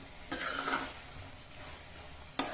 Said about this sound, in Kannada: ಈಗ ಏಲಕ್ಕಿ ಪೌಡರ್ ಹಾಕೊಂಡ್ಬಿಡಿ ಮಿಕ್ಸ್ ಮಾಡ್ಕೊಳ್ಳಿ ನೋಡಿ